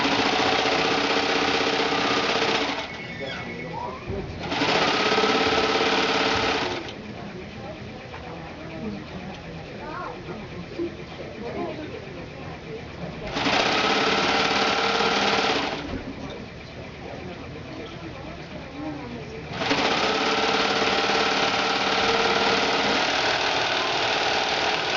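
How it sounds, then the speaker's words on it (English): Serger sewing machine running in bursts as it serges quilt fabric edges, a loud steady mechanical whir starting and stopping several times, with a person talking in the quieter gaps. "And then you're going to serge that."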